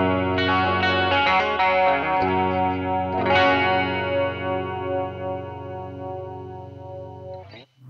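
Clean electric guitar tone for a song intro, played at low guitar volume with an analog chorus on and the overdrive off, ringing arpeggiated notes with a shimmering wobble that sustains loud and alone.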